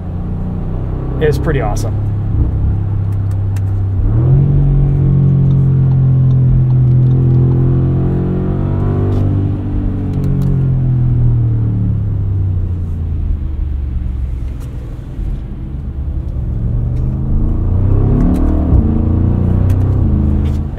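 A 500-horsepower 2024 Audi SQ7 with quattro all-wheel drive and winter tires accelerates along a snowy road. Its engine drones low and loud and climbs in pitch through gear changes, heard from inside the cabin under someone talking.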